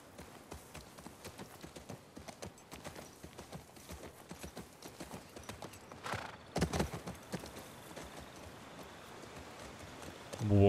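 Horse hooves clip-clop at a steady walking rhythm in The Last of Us Part II, soft and continuous across the whole stretch, with brief louder knocks partway through and a short sound at the very end.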